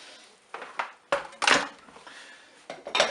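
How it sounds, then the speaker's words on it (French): A Cookeo Extra Crisp lid is fitted onto the multicooker, giving a few close plastic and metal clunks and scrapes as it is positioned and seated, with short pauses between them. "je vais installer mon couvercle"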